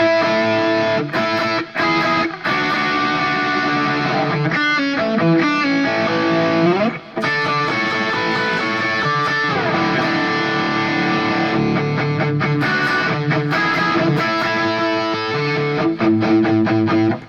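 A distorted electric guitar plays a song's intro, with continuous, loud, sustained chords and pedal-tone riffing and a couple of brief breaks between phrases, heard alone without talk.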